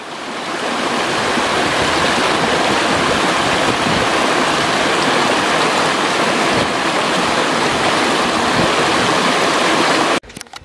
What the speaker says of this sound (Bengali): এই হচ্ছে ঝর্ণার জলটা এখানে